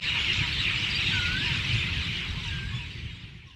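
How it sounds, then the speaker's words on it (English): Birds call at a lake sanctuary in the evening as they settle into their nests, a dense continuous chorus of chirps and squeals with a low rumbling background, steady and fairly loud. "The birds were perching back into their nests after the day-long activities."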